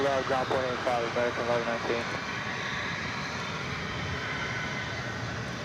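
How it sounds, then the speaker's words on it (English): An American Airlines Boeing 787 Dreamliner arriving at DFW from Buenos Aires gives a steady, moderately distant jet engine drone, with someone talking over it in the first couple of seconds. "The morning flight from Buenos Aires is an American Airlines Dreamliner."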